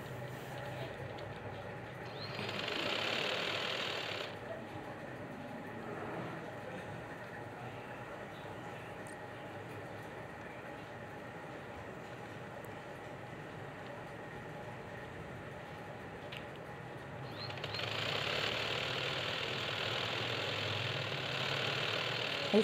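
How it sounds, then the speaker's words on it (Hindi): An electric sewing machine stitches along the folded hem of a bell-bottom trouser leg, a steady whirring motor drone running throughout with brief hissier stretches near the start and end. "इस तरीके से हम इसके किनारे पे सिलाई रखते हुए सिलाई लग कंप्लीट कर लेंगे।"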